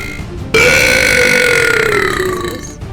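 A single long, loud, deliberate burp from a gamer, starting abruptly and holding steady for over two seconds before trailing off, with no talk around it.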